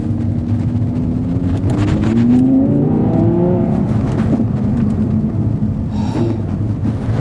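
2020 Audi R8 engine under acceleration, a loud sustained roar whose pitch climbs and falls with revs and a downshift, heard from inside the car over steady road and wind noise.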